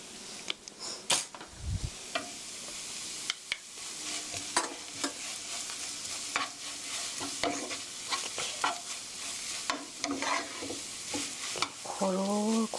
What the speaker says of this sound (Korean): 고루고루 섞어주세요